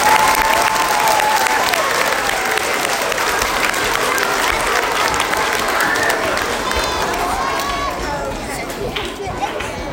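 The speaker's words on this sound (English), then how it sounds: "Can we have a big round of applause for these mums?" Audience applause for the helping mums at a school Diwali celebration, steady and loud clapping that fills the whole span, with crowd chatter and voices mixed through it.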